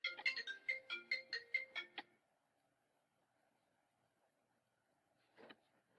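A mobile phone ringtone plays a bright, repeating melodic tune loudly for about two seconds, then cuts off into near silence, with one brief faint sound a few seconds later.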